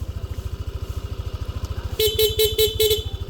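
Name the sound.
PIA horn on Yamaha Aerox scooter, rapid mode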